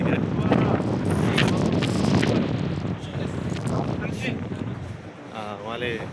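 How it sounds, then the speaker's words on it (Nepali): Strong wind near Jeju airport in South Korea buffets the microphone as a steady roaring rush, with a person talking underneath. "एकदमै हावा चलिरहेको छ यतिखेर।"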